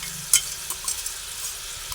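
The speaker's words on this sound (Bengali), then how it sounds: "বাদামের পেস্টটা দিয়ে দিলাম ভালোভাবে মিশিয়ে দিচ্ছি" Peanut paste stirred into a simmering potol curry in a pan, with soft scraping and occasional light clinks of a spoon over a faint steady sizzle, close and quiet.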